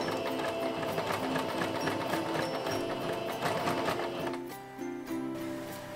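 A sewing machine stitches lace onto a cosplay costume, a loud, close, continuous whirring run that slows and drops in level near the end.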